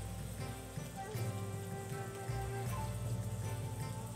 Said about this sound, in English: It's winter, and it's still frickin' raining.